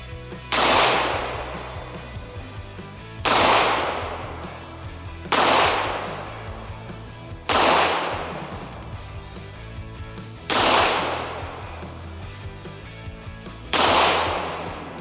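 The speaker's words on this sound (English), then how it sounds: "next up, Beretta M9. And these are loaded up with 115 grain jacketed hollow points." A Beretta M9 firing 9mm 115-grain jacketed hollow points at a cast iron Peerless 2300 transmission: six loud, evenly spaced shots outdoors, each with a sharp crack and ringing decay.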